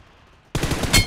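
Gunfire in PUBG Mobile team deathmatch: after half a second of quiet, a sudden loud burst of rapid automatic shots starts and keeps rattling close and dense to the end.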